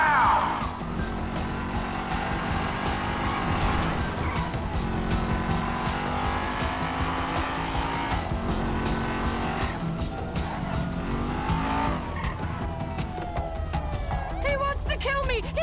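Car tires squeal and skid continuously in the video game GTA 5, loud and dense over engine noise and game music, with sustained screeching throughout.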